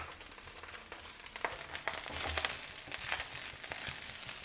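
Rice is stir-fried with fried cashews and paneer in a pan, giving a soft steady sizzle broken by scraping and clinking as the food is stirred. The cooking sounds close but quiet, with no talk.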